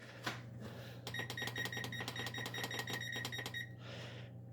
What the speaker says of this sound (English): So we're gonna go ahead and press the timer